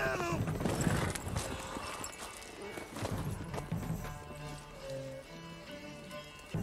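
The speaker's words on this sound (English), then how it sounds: "It's a horse." Horse hooves clip-clop and a horse whinnies in The Witcher 3, with game music and a voice talking over the galloping; a mid-level mix that stays steady throughout.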